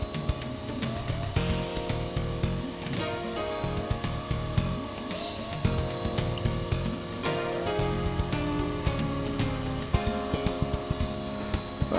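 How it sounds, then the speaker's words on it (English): Blade SR RC helicopter flying outdoors in a front yard, its rotor and tail motor whining steadily and loudly, with pitch wavering as the tail motor struggles to hold heading. "The gyro is trying to keep it straight, but that tail motor is just going wacko"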